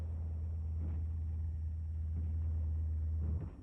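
Bulldozers working a wrecked WWII jungle landing strip in the Pacific give a steady, heavy low engine drone that holds for over three seconds, then cuts off abruptly near the end.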